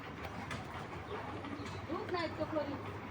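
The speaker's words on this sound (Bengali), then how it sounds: "তো দর্শক এই হলো 4 পিস কবুতর" Racing pigeons coo softly in several low, wavering calls close by amid faint background noise, and someone talks around them.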